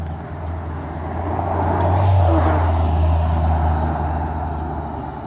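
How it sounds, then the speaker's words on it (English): A car passes along a street, its engine and tire noise rising to a close, loud peak midway and then fading as it moves off. "the car's coming"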